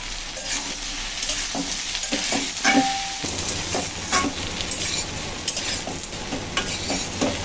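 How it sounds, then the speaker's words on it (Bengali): Soybean chunks and potato pieces with turmeric fry and sizzle steadily in a pan, with occasional stirring scrapes and light utensil clinks, close and continuous with no talk. "সয়াবিন আলু কিন্তু সুন্দর করে ভেজে নিলাম"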